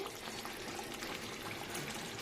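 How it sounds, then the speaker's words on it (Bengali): Whisked yogurt poured into a pot of prawn biryani, giving a soft, steady trickling pour that runs evenly throughout at a fairly faint level, with no talking. "এ দেখো দইটা ভালো করে ফেটিয়ে নিয়েছি, নিয়ে এবার এর মধ্যে এটা ঢেলে দেবো"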